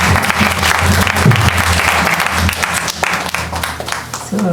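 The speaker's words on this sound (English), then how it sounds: "A big round of applause for Prabhu and Mataji" Audience applause for Prabhu and Mataji after a Hare Krishna talk on sadhu sanga, with loud, dense, steady clapping filling the hall throughout, close and continuous.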